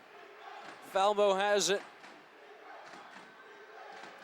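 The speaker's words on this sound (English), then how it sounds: "Again, the defense chant from the Norristown crowd." Norristown home crowd chanting defense at a 2008 high school boys basketball semifinal, a loud rhythmic two-beat shout rising once briefly, then a distant crowd murmur with court sounds under a commentator talking.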